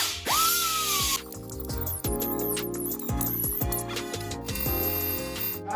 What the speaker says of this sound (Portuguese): Ou você pode estar usando a furadeira, tá?